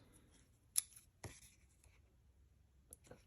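Scissors snip through card paper while a greeting card is assembled: one sharp cut, then another about half a second later, and a final pair of quick snips near the end, all close and crisp against a quiet room.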